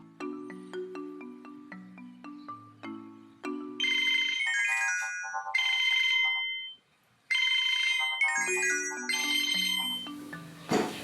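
A telephone ringtone plays a bright, melodic electronic tune in repeated phrases, with a brief pause before the tune resumes, loud and close with no talking.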